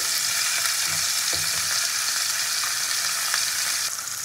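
Pieces of katla fish sizzling loudly and continuously in hot frying oil, with a few faint clinks and scrapes underneath, and no one talking.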